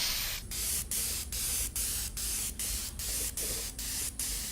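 Primer sprayed from an aerosol can onto a car valve cover, heard as a series of about ten short, even hissing bursts in a steady rhythm, close up with no voices.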